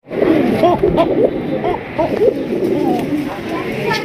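A female pigeon kept for sale coos close by, repeating soft, throaty calls against a steady background hum.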